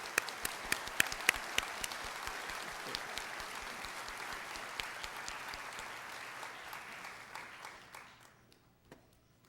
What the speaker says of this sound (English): ask for a round of applause for those volunteers